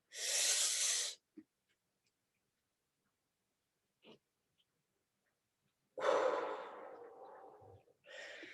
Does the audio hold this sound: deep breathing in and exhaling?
yes